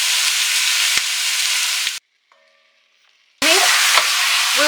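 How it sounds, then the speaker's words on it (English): Beef sizzling loudly in a hot Dutch oven, a steady dense frying hiss that cuts out for about a second and a half of near silence, then resumes just as loud, with a few clinks and stirring scrapes. "now all this meat goes to the Dutch oven, which is hot, and you see that it's sizzling"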